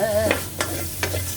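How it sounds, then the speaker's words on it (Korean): Pork and its fat stir-frying in a pan for kimchi stew: a loud, close sizzle with a few quick scraping stirs of a utensil and a low hum underneath, no voices. "먼저 볶기 전에 고기를 먼저 볶습니다"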